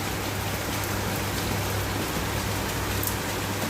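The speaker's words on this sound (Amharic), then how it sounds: "ለማንኛውም ኩዌት ይሄን ዝናብ ይመስላል።" Rain falls steadily in Kuwait, a dense, even patter of drops on surfaces that fills the scene without pause and with no talk.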